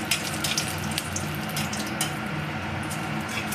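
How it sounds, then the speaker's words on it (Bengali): Dry red chillies and cumin fry in oil for a masoor dal, giving a steady close hiss and crackle with light stirring scrapes and occasional pops. "শুকনো লঙ্কা আর জিরেটাকে আমি ভালোভাবে ভেজে নেব।"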